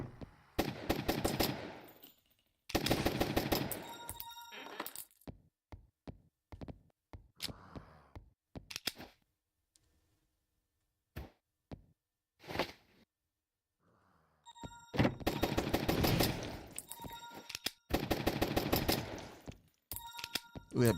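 Gunfire in the run-and-gun roguelite zombie shooter Zombiehood comes in loud rapid bursts of automatic shots, separated by sparser single cracks and near-silent gaps, and then dense bursts return.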